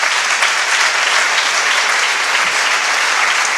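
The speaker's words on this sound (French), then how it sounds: "Et ça, on peut vraiment l'applaudir parce que ils sont rares." Steady, dense applause fills a lecture hall in honour of a surgeon newly elected to the academy of surgery, a continuous wash of many hands clapping at even loudness throughout, with no voices breaking through.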